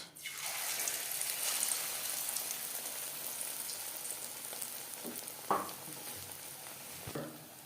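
Battered fish pakora frying in hot refined oil, a steady close sizzle and crackle that continues throughout, with a couple of brief louder spits near the end, and no talking.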